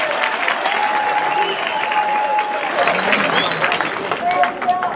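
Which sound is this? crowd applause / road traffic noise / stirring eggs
crowd applause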